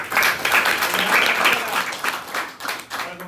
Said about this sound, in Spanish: le damos otro aplauso a sus compañeros